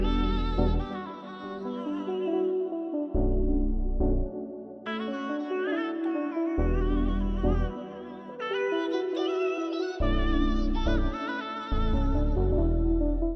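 Native Instruments Duets split-keyboard instrument plays a bass line and a bright key sound together, the bass with its highs cut, in a steady chord pattern of loud layered notes without any voices.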